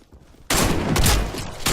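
Rapid bursts of gunfire from a shooter video game erupt loudly after a quiet half second, a dense fusillade of overlapping shots that stays heavy and close to the end.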